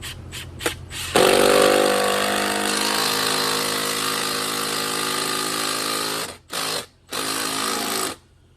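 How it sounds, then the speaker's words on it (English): A power tool drives wall-mount lag bolts with a 14 mm deep socket, a loud sustained whir lasting about five seconds, then two short bursts as the bolt is finished, close and without talk. "I'm using a 14 millimeter deep socket, which is the exact bolt for the wall mount lags."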